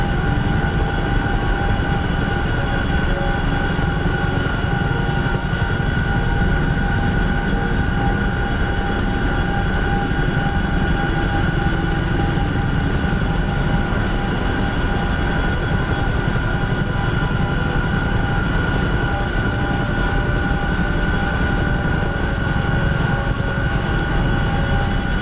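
Military aircraft taxiing in a flight simulator, its engines holding a loud, steady drone with a sustained whine throughout, unchanging and alone with no talking.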